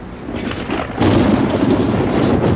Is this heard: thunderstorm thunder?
yes